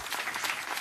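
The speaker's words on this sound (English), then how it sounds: "I would like to have a big round of applause for Anita Tilve madam" A crowd at a live event applauds the anchor, a short dense patter of many hands clapping at moderate distance.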